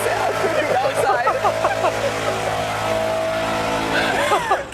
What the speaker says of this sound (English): Tell them to turn off the blower.